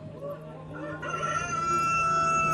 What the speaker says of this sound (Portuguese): Imediatamente o galo cantou.